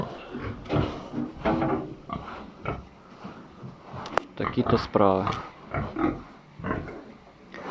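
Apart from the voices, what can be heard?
pigs oinking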